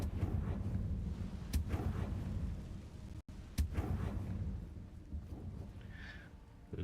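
Confringo spell blasts in the video game Hogwarts Legacy, two deep rumbling booms spaced a couple of seconds apart over a low continuous game ambience, with no talking.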